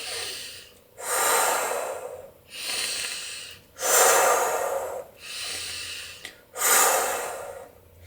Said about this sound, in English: take deep breaths. 3 deep breaths with me